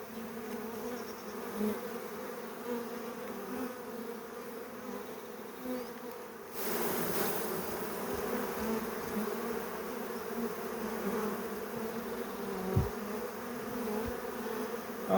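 Honeybees at an old apiary in September drone steadily around an open hive, a dense close buzz that swells slightly midway, with a brief knock near the end.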